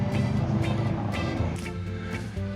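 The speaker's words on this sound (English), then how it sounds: "This truck's loud, so I'm not going to say nothing for a minute." Loud truck passing close by, a steady heavy engine rumble with road noise that swells and fades slightly over a few seconds, with no talk over it.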